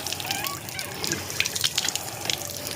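Water gushes from a hand pump beside a well, a close splashing, dripping stream with sharp spatters, with a faint voice in the background.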